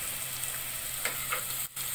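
Garlic and ginger sauté in oil on a stovetop, a close steady sizzling hiss with a faint hum underneath and a brief stir near the end, no voices.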